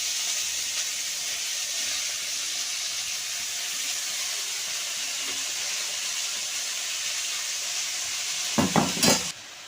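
Leafy greens added to a hot mustard-oil tempering in a Bengali kitchen, a steady hissing sizzle throughout, ending with a few loud bursts of crackling as the greens hit the pan.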